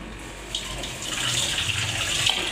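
Water drained from sago pearls during washing, a continuous close gushing pour that swells slightly toward the end, with no talk.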